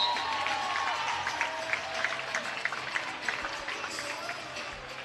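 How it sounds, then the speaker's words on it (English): Crowd at a high school volleyball regional final cheering and applauding, a steady wash of clapping and shouts from many spectators filling the gym, fairly loud and continuous throughout. "Some young Colts getting the crowd fired up down here."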